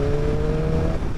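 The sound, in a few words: BMW S1000RR inline-four sports bike engine revving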